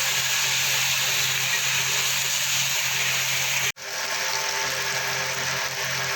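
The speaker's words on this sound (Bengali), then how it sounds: "দিয়ে আলুটা আমি ভেজে নেবো।" Potatoes seasoned with salt and turmeric frying in a pan, a steady loud sizzle and hiss running throughout with one abrupt brief dropout partway through.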